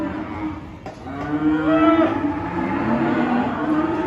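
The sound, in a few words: cattle mooing at a cattle sale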